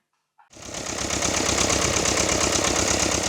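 A tractor engine starts after a moment of silence and settles into a steady, loud, rumbling idle with a throbbing rhythm, during a potato harvest in a Ukrainian village.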